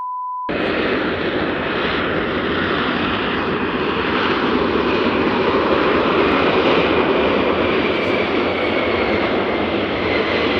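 A loud airplane passes over Nashville International Airport, its broad jet-engine roar sustained and steady throughout, with no talking.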